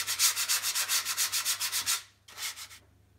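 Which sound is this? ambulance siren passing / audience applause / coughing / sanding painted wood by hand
sanding painted wood by hand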